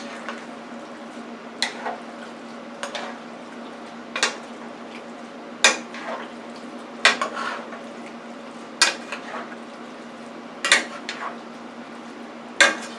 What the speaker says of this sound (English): And now let's stir fry all that together.